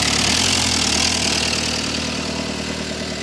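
A Volkswagen ALH TDI diesel engine in a one-ton truck, fired up by a starter button wired directly to the starter, runs at a steady idle throughout, close and loud.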